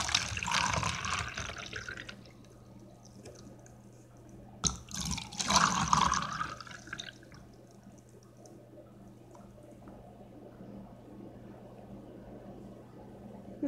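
Half a liter of water poured in two separate bursts into small quarter-liter jars, each a splashing, trickling fill of about two seconds, close by and fairly quiet, with stillness between and after.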